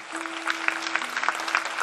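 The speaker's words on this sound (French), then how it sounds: "Sébastien, le pianiste, on l'applaudit, il est très fort." An audience claps for a pianist at a summer entertainment evening, brisk continuous applause from a crowd with a steady tone humming underneath.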